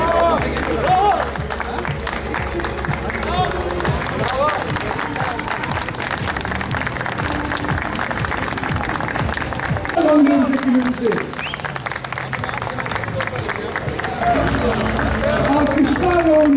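Crowd applause at the 2019 Yeşil Bursa Rally, steady clapping with background hubbub and someone talking over it throughout.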